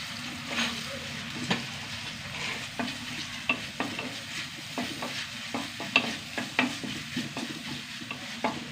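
Crushed shallots, ginger and garlic sauté in a pan: a steady, soft sizzle runs throughout, broken by regular spatula scrapes and taps against the pan, close and moderately quiet.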